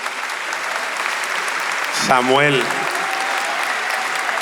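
Continuous broad applause from an audience at a 50th-anniversary concert, loud and steady throughout, with a single short spoken word rising briefly above it in the middle.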